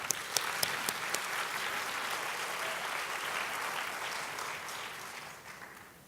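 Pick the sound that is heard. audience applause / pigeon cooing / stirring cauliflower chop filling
audience applause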